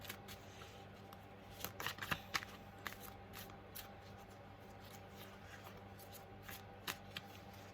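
Tarot cards are shuffled in quiet bursts, soft papery riffles and slaps repeating irregularly, close but faint, with no voice.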